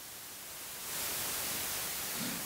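Steady synthesized pink noise, a soft hiss that swells in loudness about a second in and then holds evenly to the end.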